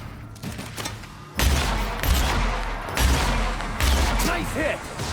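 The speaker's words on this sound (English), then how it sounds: "That hunting rifle feels awesome." Hunting rifle fire in The Outer Worlds video game, with repeated loud, punchy shots at roughly one-second intervals over game ambience and a voice in the background.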